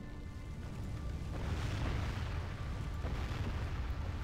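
Artillery shots strike buildings in a video game siege of Angmar, a rumbling barrage of booms and blasts that swells and repeats over a few seconds, loud and continuous.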